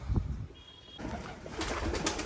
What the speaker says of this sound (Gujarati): એ લ્યો મિત્રો, કેટલા કબૂતર છે